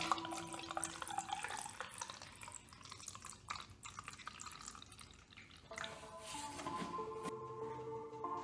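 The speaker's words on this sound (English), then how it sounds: "be sure to do 1 round of flushing using only water" Flush water drains and drips from a motorcycle radiator, a close trickling and splashing stream that shifts in tone partway through, with no talk.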